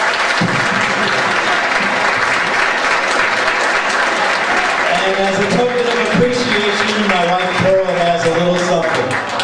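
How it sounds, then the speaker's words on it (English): Audience at a high school reunion cabaret show applauds the cast, sustained clapping and crowd noise throughout, with voices and some music-like tones rising over the applause in the second half. "Let's give them another round of applause."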